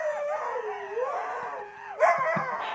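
Huskies howl and yodel in wavering, rising and falling tones, several dogs overlapping, loud and close, with a sharper burst of howls near the end.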